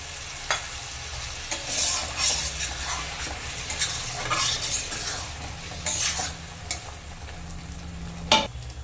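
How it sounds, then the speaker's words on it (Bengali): Spices and potatoes sizzle in a pan as a splash of water from rinsing the spice bowl goes in, with steady frying hiss, stirring scrapes and occasional clinks of a utensil against the pan, close and without speech. "এবার এতে অল্প করে মশলার বাটি ধুয়ে জল দিয়ে দিচ্ছি।"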